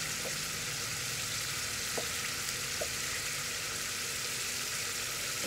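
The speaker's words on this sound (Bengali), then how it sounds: "টমেটো দিয়ে নিয়েছি, এখানে স্টিফ হয়ে গেছে টমেটো, কাঁচামরিচ ভালোভাবে কষিয়ে নিচ্ছি।" Tomatoes and green chillies being sautéed in a pan make a steady, faint frying hiss throughout, with a few light clinks of a spoon against the pan.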